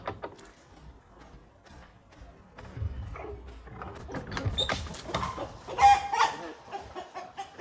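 Chickens cluck outdoors on a farm with goats around, starting quiet and sparse, then growing into louder, busier clucking and squawks in the second half, with brief faint voices mixed in.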